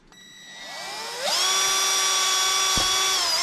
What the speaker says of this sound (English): I'm going to drill my holes perpendicular to that line.